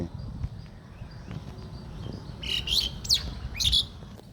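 Birds being fed chirp in a few short, bright bursts over a low background rumble, moderately close and not very loud.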